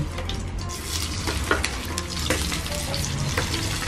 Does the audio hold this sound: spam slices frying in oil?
yes